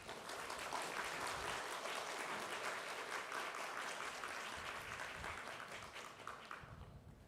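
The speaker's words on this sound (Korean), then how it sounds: "우리 나오실 때 또 크게 기대하는 만큼 환영의 박수로 함께 해주시길 바랍니다." Sustained applause from a church congregation welcoming a pastor to the pulpit at a summer revival meeting at a Korean church, steady and dense throughout before thinning slightly at the end.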